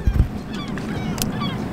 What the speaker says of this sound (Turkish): Kazlar mazlar var.